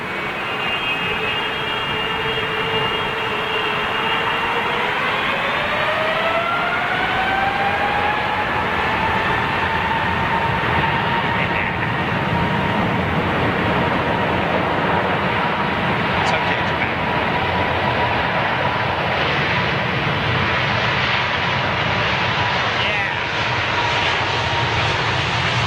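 A jet airliner with General Electric engines at Heathrow Airport roars loudly and continuously, its engine whine sliding downward in pitch as it passes close by, with no talk heard.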